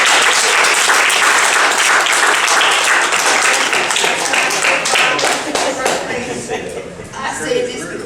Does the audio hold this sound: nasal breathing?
no